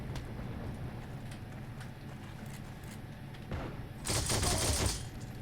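An MG42 machine gun in the shooter game Heroes and Generals rattles off bursts amid distant battlefield noise, with a louder, dense stretch of rapid fire near the end.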